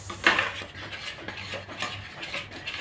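A pot of sticky glutinous rice being stirred with a utensil, giving close scraping and clinking strokes in an irregular rhythm, with a faint low hum underneath.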